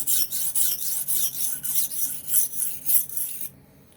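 Knife blade drawn across a fine grit sharpening stone in a run of quick, regular rasping strokes, close and crisp, ending in sudden quiet.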